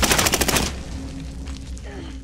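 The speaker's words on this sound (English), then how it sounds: "He's shooting at me." Rapid automatic gunfire bursts in Call of Duty: Modern Warfare, loud and close for the first half-second, then fading into quieter game ambience with faint tonal sounds.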